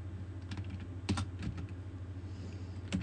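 Fast bursts of typing on a computer keyboard during iOS iPhone audio programming, irregular clusters of close key clicks with short pauses, no talking.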